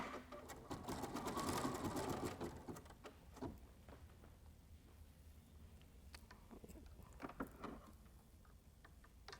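An embroidery machine stitches a small pink nose on a witchy cat treat sack, a faint, rapid ticking chatter that is busiest at the start and then thins into scattered clicks.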